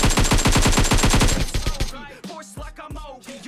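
Rapid automatic gunfire in PUBG Mobile, on the Erangel map, fired at bots. A loud, fast burst of shots runs for about a second and a half and trails into a few sparse shots as a voice starts talking over the game.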